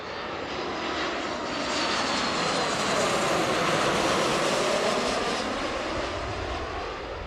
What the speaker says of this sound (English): Flight 949 from San Diego on short final approach into runway 34 left at Seattle International.